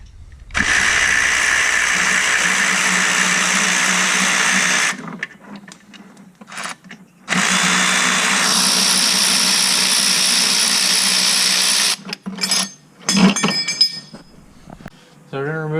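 Power tool or impact wrench running on bolts of a BMW 335d during DPF removal, two long loud whirring bursts separated by short pauses, then brief clinks of the socket and some talk near the end.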